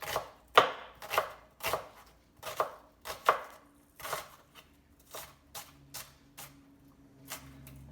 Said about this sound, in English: Professional chefs would be horrified with how I'm chopping this tomato